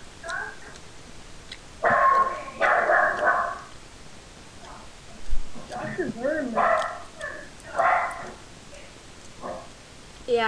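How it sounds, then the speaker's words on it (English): A dog barks in the background during a Minecraft session, several bursts of barking and yips spaced irregularly, moderately loud and somewhat distant. "that's why you hear barking in the background"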